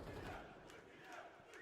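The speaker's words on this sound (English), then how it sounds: "Hearing some of the Aurora fans, I think, in the background, trying to cheer the team back online." Esports crowd of Aurora fans cheering and chanting in the background of a Counter-Strike match broadcast, a steady distant roar with rising shouts, no clear talk over it.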